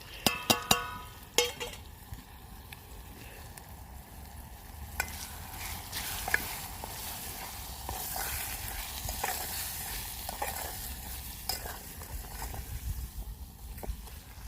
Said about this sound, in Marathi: कांदा पण शिजायला घातलाय कांदा टोमॅटो मिरच्या आणि लसूण तर मसाले टाकून घेते